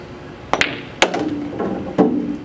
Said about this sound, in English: I'm gonna follow through, shoot the ball in the pocket.